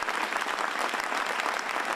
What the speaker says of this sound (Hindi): खुशी खुशी सब ने तालियां बजाई